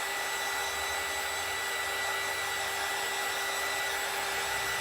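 A hair dryer blows steadily on a handmade deep-sea themed stamped and molded craft piece, a continuous close whooshing hiss with a constant motor whine, alone without talk.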